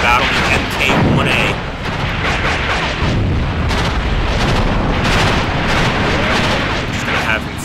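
Tank battle in the Graviteam Tactics war game with an Olifant Mk1A tank, dense continuous gunfire, booming cannon shots and explosions that sound loud and close, with a voice talking over the combat.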